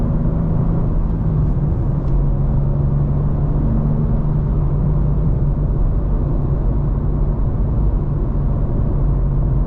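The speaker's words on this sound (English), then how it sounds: "Even fifth gear pulls hard in this thing" A 2024 BMW M2 pulls hard in fifth gear, its engine a loud, constant broadband rumble that fills the cabin without letup, with no talking.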